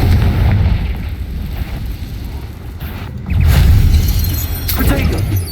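Fiery Confringo blasting spell explosions in Hogwarts Legacy, a string of heavy booming bursts with rumbling low-end that swells louder midway, amid continuous game combat noise.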